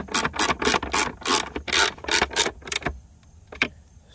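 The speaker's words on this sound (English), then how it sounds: "So go ahead and put your 4 Torx heads back in." Torx screws being driven back into a Ford F150 mirror with a hand tool: a quick series of scratchy, ratcheting bursts close by, then a pause and one last short rasp.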